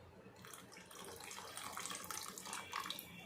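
Water pours steadily into a pot of bitter gourd tamarind stew, a soft continuous splashing stream that grows slightly fuller over a few seconds.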